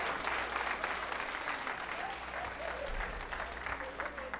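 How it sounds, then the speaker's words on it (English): Scattered, moderate clapping from a church audience, fairly quiet and continuous with a low hum beneath and faint voices mixed in. "Just clap a little bit."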